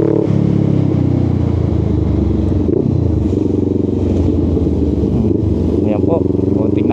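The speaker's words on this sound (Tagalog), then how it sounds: "Ayan po, konting nabitin lang at may motor." A motorcycle rumbles close by on a curving road near a busy river on a Sunday, its engine drone loud and steady throughout with voices talking over it.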